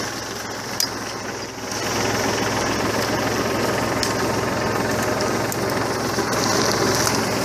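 A Massey Ferguson 1433 4x4 compact tractor strains as it skids a cherry tree, its engine droning loud and steady close by, with the load rising after the first couple of seconds and holding through the end.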